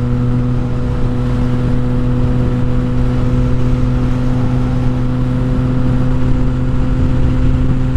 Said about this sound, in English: this bike's so much fun to ride